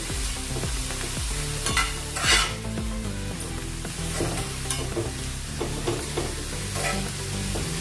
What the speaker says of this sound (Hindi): अच्छे से इसको मिक्स कर लेंगे।